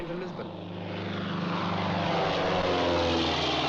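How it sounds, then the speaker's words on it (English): A propeller airplane flies to Lisbon in the 1942 film Casablanca. Its engine drone swells and grows louder over a few seconds, with voices faintly audible beneath. "The plane to Lisbon."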